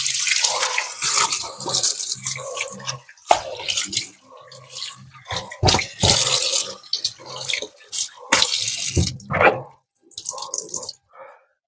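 Tap water runs and splashes in bursts while pork skin is washed in a sink for homemade chicharon, with loud, close intermittent gushes separated by short gaps.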